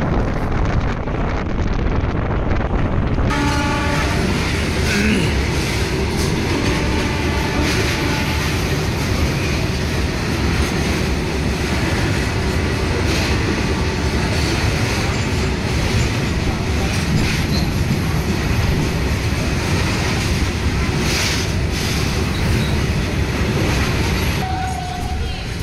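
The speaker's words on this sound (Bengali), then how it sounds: "আমাদের ট্রেন রাজচন্দ্রপুর স্টেশন থেকে ছেড়ে দিল।" A passenger train pulls out of Rajchandrapur station in Hooghly, West Bengal, and runs along the rails with a loud, steady rumble and rattle of wheels that continues throughout, with wind buffeting the microphone.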